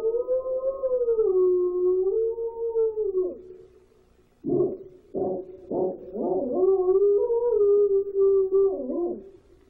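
A stray dog howls in the woods, drawn-out wavering howls near and loud, broken midway by a few short yelps and whimpers before the long howling resumes.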